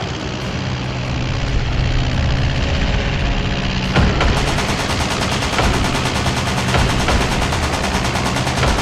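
Animated troops open fire in a zombie apocalypse war scene, with a dense, continuous roar of rapid gunfire and rumbling engines that grows into a steadier, rattling barrage of machine-gun bursts after a few seconds.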